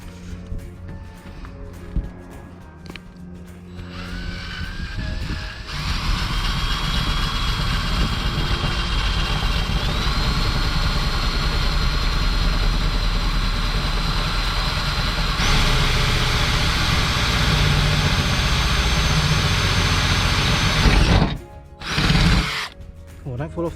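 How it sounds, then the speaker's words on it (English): A power drill with a bigger bit enlarges pilot holes in the metal high-top roof of a Citroën Relay campervan, whining steadily for long stretches before stopping near the end. "we're going to enlarge them with the bigger drill bit so that we can get the jigsaw head in there"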